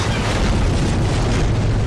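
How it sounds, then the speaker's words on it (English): A Predator missile strike in a military shooter video game lands as a loud, continuous explosive boom with deep low rumble that fills the whole moment, with no voices over it. "Friendly Predator missile inbound."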